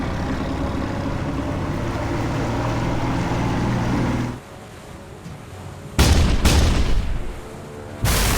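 Forward 5-inch guns on a warship fire in a film battle: a steady engine rumble drops away, then two or three loud, sharp blasts follow in quick succession, close and booming.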